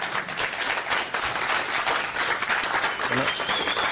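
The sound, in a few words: audience applause for a conference panel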